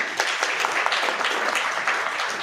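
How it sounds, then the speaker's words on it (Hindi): An audience at a direct-selling company event applauds the chairman, a dense continuous burst of many hands clapping for a couple of seconds. "एक बार जोरदार ताली होनी चाहिए"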